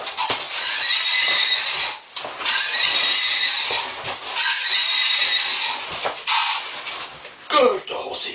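Horse neighing in a retro computer game written partly in machine code, with several loud electronic whinnies in a row close up, a few clip-clop-like clicks between them and a brief rising cry near the end.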